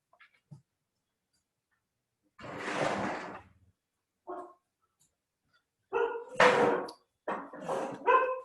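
Dogs barking indoors in a few separate bursts, a short single bark followed by a cluster of louder, sharper barks, moderately close with no talk over them.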